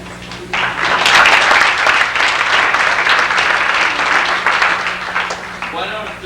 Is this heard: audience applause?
yes